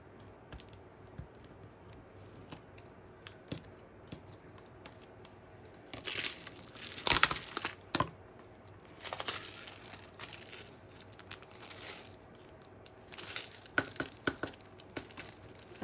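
Paper being torn and peeled off a handmade Christmas card, with scattered crinkles and rips that cluster into a couple of louder tearing bursts, close and fairly quiet, with no talking.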